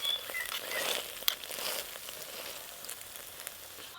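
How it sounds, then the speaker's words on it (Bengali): A semolina and raw potato snack fries in oil, with a soft, steady sizzle and crackle heard close but quietly, plus occasional small pops, and no talk. "কি সুন্দর ভাজা হচ্ছে দেখেছেন?"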